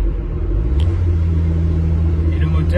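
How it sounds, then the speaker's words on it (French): A 1979 Renault 7 TL cruising along the road, its engine giving a steady low rumble with broad road noise throughout, while someone talks over it. "Et le moteur est suffisamment péchu pour cruiser tranquillement"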